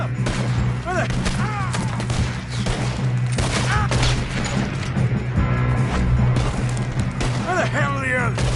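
Loud rapid gunfire and crashing bursts from a Red Dead Redemption 2 shootout run steadily throughout, mixed with game characters talking over the fighting.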